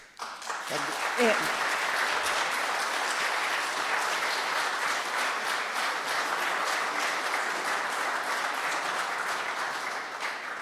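A seminar audience applauds a speaker, steady dense clapping that holds loud and even for about ten seconds before easing slightly at the end.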